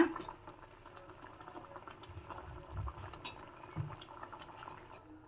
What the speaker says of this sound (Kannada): ಇನ್ನೊಂದು ಎರಡು ನಿಮಿಷ ಹೀಗೆ ಚೆನ್ನಾಗಿ ಕುದಿಸ್ಕೊಳ್ಳೋಣ